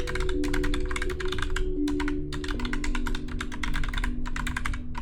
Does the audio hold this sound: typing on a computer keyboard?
yes